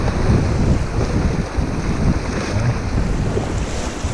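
Whitewater rapids on the Salmon River during a rafting trip, a continuous loud roar of churning water and wind buffeting the microphone, steady throughout with no talking.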